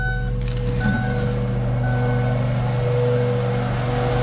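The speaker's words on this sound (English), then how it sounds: "fan on, not making any funny noises, not vibrating like crazy" A Ford Focus Mk2 radiator cooling fan runs steadily with the air conditioning on, a constant droning hum with tonal whine that holds even and smooth throughout, heard close up with no talking.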